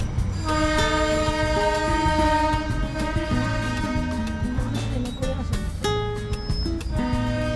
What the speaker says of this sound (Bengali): আরও একটা টয় ট্রেন পিছন থেকে আসছে আমাদের